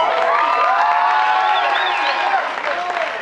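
A homecoming crowd cheers and applauds loudly and steadily throughout, with whoops and shouting voices layered over continuous clapping.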